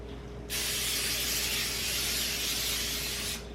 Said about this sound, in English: Oh, I probably should spray that first, huh?